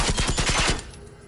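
An SMG fires a fast burst in a video game, with about eight rapid shots in under a second and then a fading tail.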